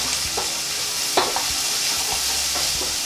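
Carrots, onions and herbs for a vegan lentil bolognese sizzle in oil in a saucepan, with continuous close frying hiss and a few scraping stirs, no talking.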